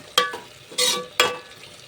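Drumstick tomato curry stirred in a pan, three distinct scraping swirls of a spoon through the thick gravy, close and fairly loud with soft sizzling between strokes and no talking.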